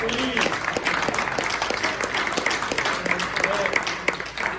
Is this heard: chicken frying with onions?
no